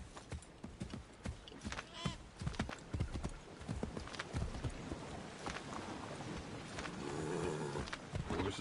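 Horse hooves clip-clopping in Assassin's Creed III Remastered, quiet and steady under someone talking, with a low rumble building toward the end.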